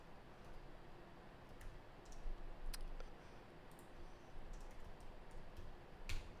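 Fast, light clicking of keys on a computer keyboard, close and quiet, in bursts of uneven typing with a few louder taps, no voices.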